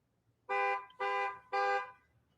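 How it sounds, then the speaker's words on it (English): Three honks from a car horn outside, evenly spaced and moderately distant, each about half a second long, with nothing else around them. "somebody honking"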